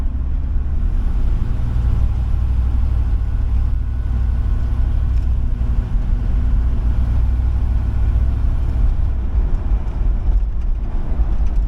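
A car engine fitted with an Edelbrock Performer carburetor carrying AVS2 boosters rumbles steadily during a test drive, a loud, low continuous drone with little change in pitch.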